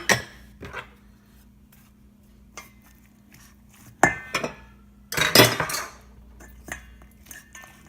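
Macaroni salad with a mayo and egg mixture is stirred in a bowl, producing intermittent clinks and scraping clatters of a utensil against the dish, with quiet pauses between bursts of mixing.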